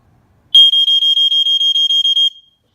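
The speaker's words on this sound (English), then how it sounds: "It's gonna be loud, just warn you." A vintage Sears and Roebuck smoke and heat detector is tested, sounding a loud, piercing high-pitched alarm in rapid regular pulses for nearly two seconds before cutting off, alone in otherwise quiet surroundings.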